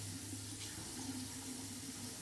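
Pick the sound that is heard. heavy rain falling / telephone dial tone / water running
water running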